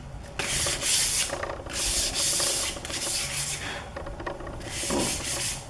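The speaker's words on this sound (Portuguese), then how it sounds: "A lixa é só para dar a quebra da massa" Sandpaper scrubbing over dried putty: close, continuous rasping strokes in a steady back-and-forth rhythm, rising and falling with each pass, with no voices.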